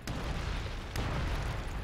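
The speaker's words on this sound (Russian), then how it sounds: "Фига у меня там взрыв идет жесткий." Explosions in the Dota 2 BomberMan custom game, a dense sustained blast roar with two sharper bursts near the start and about a second in, loud and continuous throughout.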